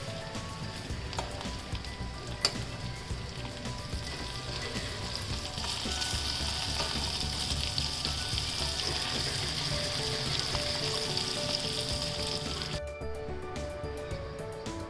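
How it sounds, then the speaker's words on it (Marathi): Crabs fry in a pan over a low gas flame for a Malvani crab-fry recipe, giving a steady, dense sizzle that runs unbroken for the whole stretch with only faint stirring clatter and no talk. "आता आपण पुन्हा हे परतून घेऊ आणि बारीक गॅसवर 5 मिनिटे पुन्हा फ्राय करून घेऊ"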